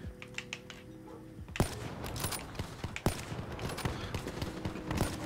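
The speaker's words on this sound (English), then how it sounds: "I'm just shooting all over the place." Rapid gunfire crackles in a first-person shooter video game, with a rattling burst of automatic shots over a noisy in-game backdrop and a few sharper louder cracks standing out, no voice heard.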